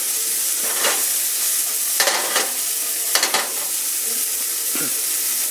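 Steak seared in a cast iron skillet just after flipping, a loud constant sizzle and hiss close by, broken by a few scraping, clattering handling sounds, with no speech.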